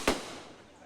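A single loud gunshot from a celebratory salute at a Miao hunters' village welcome ceremony cracks sharply, then trails off in a brief echoing decay.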